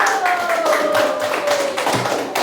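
Classroom applause for the blue group during a teacher training session, a moderate burst of scattered hand claps lasting a couple of seconds, with a faint tone and background voices.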